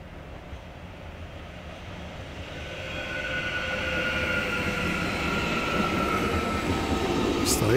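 A train, an ICE, rumbles nearby while switching from the through track to the middle track at a station in the Spessart, growing steadily louder, with a sustained high metallic whine from the wheels and no talking.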